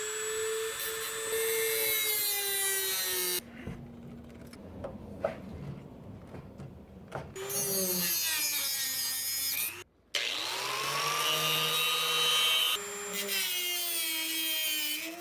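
A Dremel rotary tool cuts slots into frozen screws during a bus build, giving a high whining grind in long bursts with pauses between them, loud and close.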